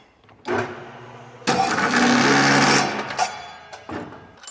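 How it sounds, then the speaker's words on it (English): A cold saw cuts bolts down to length, its motor spinning up in short bursts and then grinding through metal for about a second and a half, loud and close, before winding down. "I'm gonna go cut them down. Nice and quick. The cold saw is like spoiling yourself for sure."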